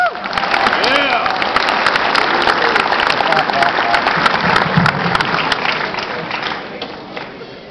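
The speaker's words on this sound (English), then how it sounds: "please give her a round of applause" At a Marine Corps Ball dinner, the crowd gives sustained applause for the dessert maker. The clapping is broad and continuous, with voices and crowd chatter mixed through it.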